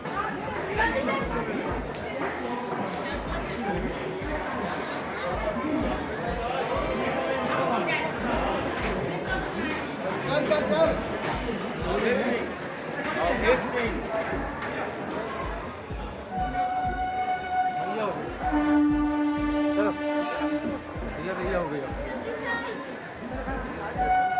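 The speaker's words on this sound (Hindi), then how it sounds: "ये है आपका वाराणसी स्टेशन।" Crowd chatter and footsteps fill Varanasi railway station, with a sustained train horn sounding near the end over the busy hubbub of passengers.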